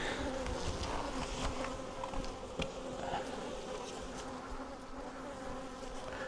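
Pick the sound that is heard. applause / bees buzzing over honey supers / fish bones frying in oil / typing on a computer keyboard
bees buzzing over honey supers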